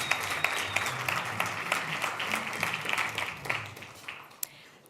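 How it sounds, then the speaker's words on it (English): Audience applause at the official launch of Generation Unlimited in South Africa, a crowd clapping steadily with scattered sharper individual claps, moderately close, tapering slightly toward the end, with a faint low murmur beneath. "Can I get a round of applause?"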